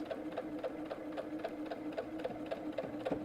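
A sewing machine stitching a quilt seam through a half-square triangle block runs in a steady, fast mechanical chatter with an even rhythmic pulse, close and continuous with no voices over it.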